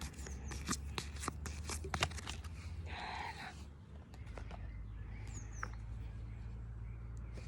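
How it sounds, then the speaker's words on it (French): Angel oracle cards being shuffled and drawn, with a run of quick papery riffles and flicks up close, a brief louder burst partway through, then softer card handling and light rustling. "Je vais retirer une carte encore du même jeu."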